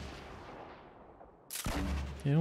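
Gunfire in the battle royale game Fortnite: a quieter rumbling stretch, then a sudden loud burst of shots and a brief tonal game sound at the end.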